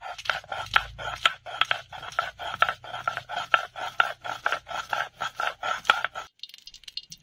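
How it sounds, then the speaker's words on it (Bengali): Green chillies and cumin are ground together by hand on a grinding stone for a village fish curry, a rhythmic series of rasping, scraping strokes at a steady pace, close and moderately quiet, ending in a brief pause. "কাঁচা লঙ্কা আর জিরে একসঙ্গে বেটে নেব।"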